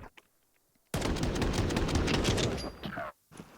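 USP pistol fire in the Counter-Strike match IEM Katowice 2025, a dense burst of rapid gunshots and impacts lasting about two seconds, loud and close, with quieter game ambience before and after.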